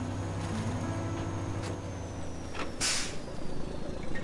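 A medium duty truck driving in the video game SnowRunner, a constant low engine drone with a sharp burst of air hiss partway through, loud and steady from start to finish.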